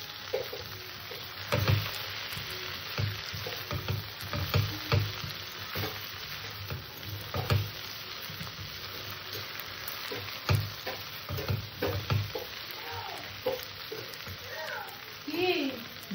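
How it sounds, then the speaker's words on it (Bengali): Okra frying on low heat in a pan while being stirred often, a soft steady sizzle broken by repeated scraping and clacking strokes of a spatula, fairly quiet and close. "গ্যাসটা ছোটো করে দিয়ে এবার ঘন ঘন নেড়ে ভেন্ডিটাকে আমি ভেজে নেব।"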